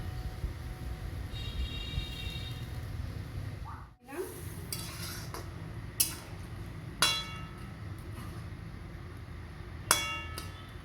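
Fish being stirred in mustard oil in a pan gives a steady background sizzle, with a handful of sharp metallic clinks and scrapes spaced a few seconds apart.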